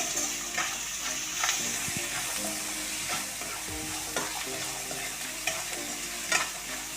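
A spoon stirs turmeric and salt through a sizzling potato curry for puri in a pan, with repeated scraping strokes over a constant frying crackle, close up and without speech.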